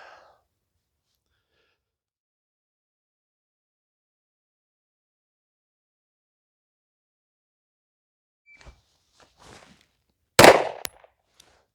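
A tiny handgun is fired at 10 yards in one loud, sharp report after long silence and a few faint handling noises, followed by quiet.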